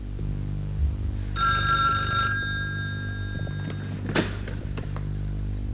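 An old-style telephone bell rings in a classic television drama, one sustained ring of about a second in a quiet room, followed by a dull thud and faint handling noises.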